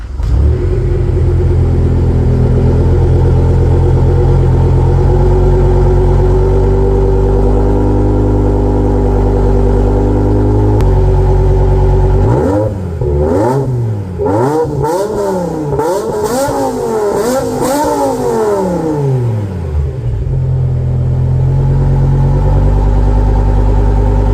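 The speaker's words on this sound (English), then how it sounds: "Now let's hear that beautiful V10 scream." A 700 hp BMW M5 V10 engine with catless headers, X-pipe and Billy Boat muffler idles with a deep, steady rumble, then revs hard several times, each rev rising to a loud, high-pitched scream before settling back.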